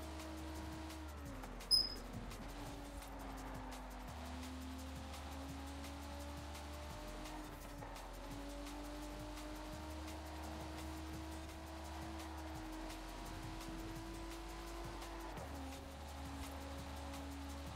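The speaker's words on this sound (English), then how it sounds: "I'm nowhere near pushing this car to its limit" A car engine revs steadily in the racing video game Forza Horizon 4 during a night street race, a continuous drone climbing in pitch through each gear and dropping at every shift, about five shifts in a row.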